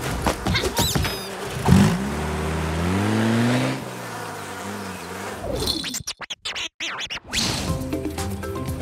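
A cartoon car revs and pulls away, its engine tone rising and sliding off, mixed with buzzing cartoon flies, loud and close, followed by choppy sound effects.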